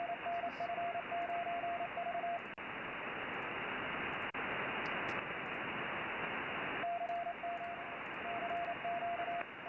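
Fast Morse code tone keyed in short dots and dashes over a loud, steady radio hiss, pausing in the middle stretch before resuming.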